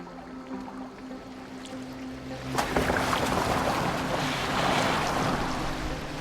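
A boat sailing on water in the video game Assassin's Creed Valhalla: a low steady hum and soft lapping that swell into a broad rushing wash of water partway through, continuous and fairly close.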